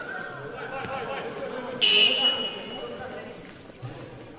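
A basketball timeout buzzer sounds once, a short sharp electronic tone rising over an arena crowd's murmur while a commentator talks.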